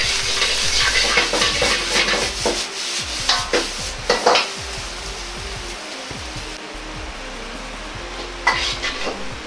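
Black fried rice being stir-fried in a pan as sesame oil goes in, a steady close sizzle with repeated scraping and clanks of the ladle against the metal, continuing without talk.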